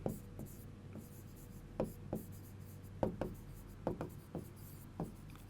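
A teacher writes on the board, with a run of short scratchy strokes and taps in an uneven rhythm, quiet and close, and no voice is heard.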